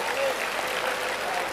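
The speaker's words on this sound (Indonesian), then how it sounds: "Tepuk tangan untuk ibu" A brief, steady burst of audience applause during a church service, a dense, even patter of many hands clapping with no break.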